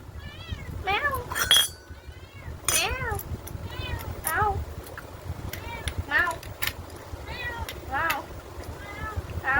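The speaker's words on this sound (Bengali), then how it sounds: "দেখে গেলে দেখো মিয়াও মিয়াও করে।" A cat meows repeatedly at close range, several short rising-falling calls spread through the span, with a person talking over and between them and light clinks in the background.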